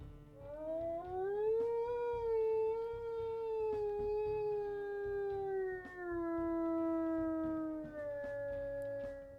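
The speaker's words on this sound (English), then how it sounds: "As for his howls" A wolf howl from the video game WolfQuest, a single long, deep, sustained tone that rises at the start then slowly slides lower over several seconds, steady and clear with no talking.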